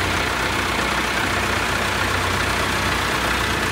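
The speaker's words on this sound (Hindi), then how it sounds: "बुराक B4100 टू व्हील ड्राइव।" A Burak B4100 two-wheel-drive tractor engine runs steadily during testing, a loud, constant diesel drone with a low rumbling pulse and broad hiss, no voices over it.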